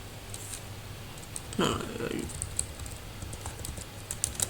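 Computer keyboard tapped while writing code, rapid light clicks in uneven bursts close by, with a voice talking over part of it.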